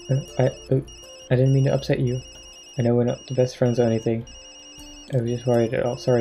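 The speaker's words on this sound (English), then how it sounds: "that's my phone." A phone rings in a video game set in Tokyo, a bright repeating electronic tone running steadily behind a conversation between voices that continue over it.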